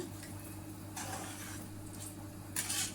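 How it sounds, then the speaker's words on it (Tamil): Rice stirred into tomato rice in a pot, with soft scraping and swishing strokes of a spoon close by and a light sizzle, rising to a brief louder scrape near the end. "நல்லா கிளறி விட்டுக்கலாம்."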